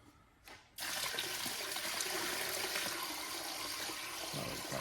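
Water pours steadily into the sump of a garden water feature. After a brief quiet start it becomes a continuous splashing gush, fairly close, with no speech.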